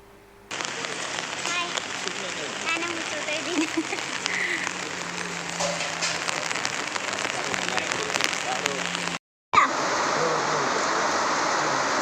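Heavy monsoon rain pours steadily near the Kukke Subrahmanya temple, a dense, loud hiss that breaks off briefly, with voices faintly underneath.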